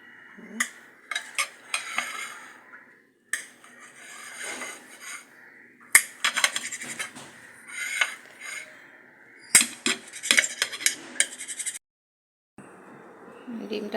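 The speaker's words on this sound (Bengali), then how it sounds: "এটা আমি কাটে নেব একটু একটু করে ডিমটা" A cooked egg is chopped into small pieces in a pan, with repeated sharp metal-utensil taps and scrapes coming in irregular bursts separated by short pauses. The sound is close and fairly clear.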